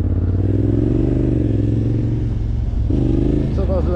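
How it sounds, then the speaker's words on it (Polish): A Yamaha Raptor's engine idles and putters steadily, its loud exhaust thrumming low and close, with a brief rise in revs near the end. "zaczął głośniej chodzić ten wydech"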